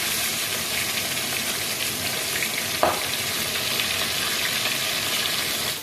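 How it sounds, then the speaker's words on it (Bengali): Steady, dense sizzling of tilapia fish frying in hot oil, continuous and close, with one brief clink partway through. "মাছগুলোকে খুব ভালোভাবে ভেজে নিতে হবে"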